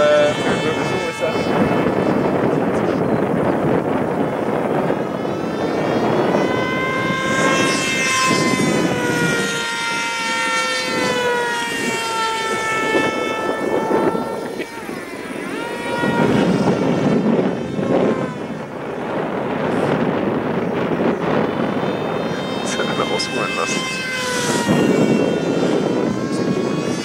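Strong gusting wind buffets the microphone outdoors while a Lidl NewFlidl model glider flies, making a loud, continuous roar that swells and dips throughout, with a wavering whine from the model's motor.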